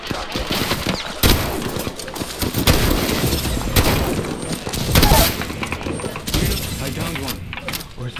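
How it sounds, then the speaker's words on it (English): Video game gunfire crackles in dense, rapid bursts throughout, with a few louder shots standing out amid busy battle noise. "Listen up, I'm getting shot at."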